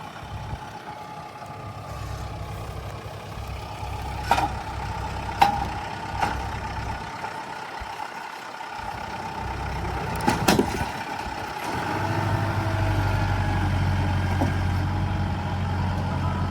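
A Kubota tractor with a front loader runs steadily on a farm during fence work, its diesel engine rumbling continuously with a few clanks and knocks, the low drone growing heavier toward the end.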